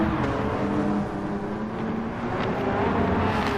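Race cars in Gran Turismo 7, including a Porsche 993 in a Sunday Cup race, roar past in a steady, continuous engine drone with no talk.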